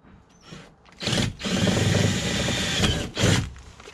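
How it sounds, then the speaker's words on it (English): A power drill driving fixings into a VW T5 van, whirring in two sustained runs with a short break between, close and fairly loud, with a brief rev-up beforehand. "then we'll get the two end ones drilled in"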